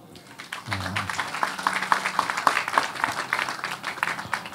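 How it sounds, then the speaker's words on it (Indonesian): Audience applause at a Kenduri Cinta gathering, a fairly soft, steady clapping from a crowd that swells in after a brief pause and continues beneath light murmuring. "Tepuk tangan dong"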